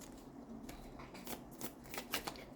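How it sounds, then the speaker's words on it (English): Tarot cards are shuffled close by in a series of soft riffling bursts with an uneven rhythm, quiet and with no voice. "I'm just going to pull the tarot cards here."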